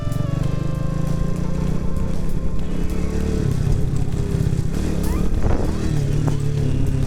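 An old childhood motorcycle idles steadily and rolls along on its own with no throttle applied, its engine putting out a continuous near, loud drone with a slight uneven knock.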